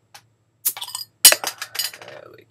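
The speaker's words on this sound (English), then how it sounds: "Just gonna crack it, see if we can see some of the foam coming from the top." A can of BrewDog Punk IPA is cracked open: a few short clinks, then a sharp close crack followed by a brief fizzing hiss of foam that trails off.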